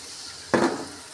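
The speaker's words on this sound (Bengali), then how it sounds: "মশলাটা কষানোর জন্য অল্প একটু পানি দিয়ে দেব।" A splash of water hits onions, chilies and spices frying in oil and sets off one sudden sizzling burst that fades within half a second.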